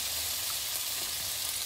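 Potatoes frying in a pan for chicken afritada, a steady dense sizzle with continuous crackle, close and fairly loud, with no talking.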